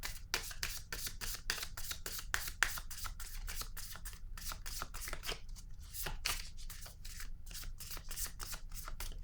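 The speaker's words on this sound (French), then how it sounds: "Je vais piger une autre carte noire." Cards drawn and shuffled from a deck, a rapid, even run of crisp riffling flutters and snaps repeating close up for several seconds, with no talking.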